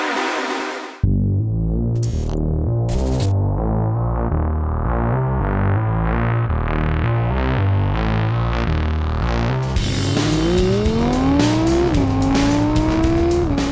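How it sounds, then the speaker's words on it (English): An Audi R8 V10 Plus supercar with a 5.2-litre V10 on the Buddh International Circuit, its engine climbing in pitch in a loud, sustained rev near the end, under a steady bed of loud music. "we've got a supercar from Audi and we took it to the Buddh International Circuit"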